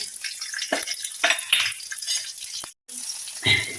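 Cooked red amaranth greens and their cooking water go into a hot tempering of green chillies, producing a close, hissing sizzle with bursts of pouring and stirring that stop briefly and then return.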